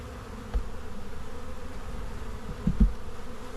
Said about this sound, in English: there being a lot of bees in the box